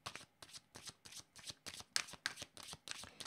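Tarot cards being shuffled by hand in a steady run of about nine crisp riffling bursts, close and clear with short gaps between them.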